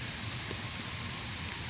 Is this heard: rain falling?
yes